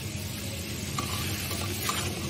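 Tilapia fish is stirred together with onions in a hot, oily pan for a do-piyaza, giving a steady soft sizzle with faint scraping as the pieces are mixed.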